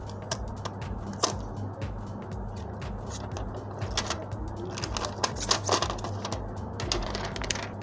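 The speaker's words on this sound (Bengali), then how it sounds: "আপনারা পলিথিনের সাউন্ডটি শুনবেন।" Polythene plastic wrapping crinkles and rustles up close while a Samsung Galaxy M02 phone is unboxed, with irregular crisp crackles and snaps running steadily throughout and no voices.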